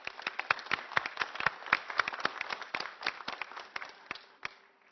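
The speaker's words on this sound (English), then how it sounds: "Let's give them a round of applause, please." A small audience at a city press conference claps in a sparse round of applause, distinct individual claps standing out at moderate distance over a few seconds.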